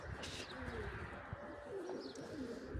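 Pigeons cooing on a rooftop on a cold, windy, rainy day, soft low coos and a few faint chirps running steadily under constant wind noise.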